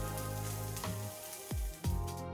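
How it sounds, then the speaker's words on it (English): Sliced white onions frying in the same pan used for the chicken, a close steady sizzle with a few sharp stirring knocks. "In the same pan used for frying the chicken, add the sliced white onions."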